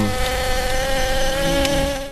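Bees and other insects buzzing around a raffia palm tapped for palm wine, a steady, close, droning hum that holds throughout with no voices.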